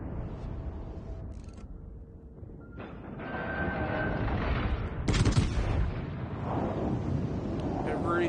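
Battleship main guns fire a salvo in the naval combat game World of Warships Legends, with heavy booming blasts and rumbling under continuous game noise, loudest near the middle and mixed with voices.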